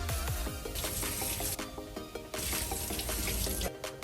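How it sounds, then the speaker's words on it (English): Mushrooms rinsed in a strainer under a running kitchen tap, a steady rush of water spattering over them with no voices. "Wash all the mushrooms on the strainer."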